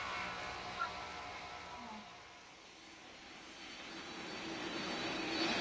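Jet airliner engine in a flight simulator game, a steady broad roar during a go-around at about 300 knots, swelling slightly toward the end with no talk.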